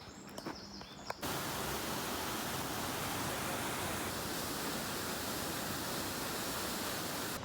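A waterfall in a Slovenian forest roars as a steady, dense wash of falling water, loud and continuous, beginning abruptly after a brief moment of quieter sound at the start.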